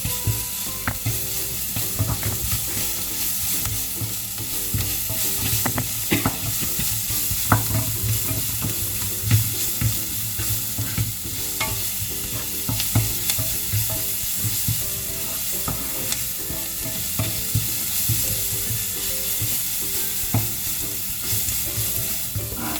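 Onions with salt sauté in sunflower oil for palak paneer, a loud continuous sizzle and crackle with frequent stirring scrapes and clicks throughout.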